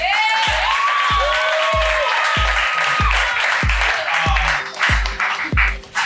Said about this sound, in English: Can you guys clap for her for shooting alive?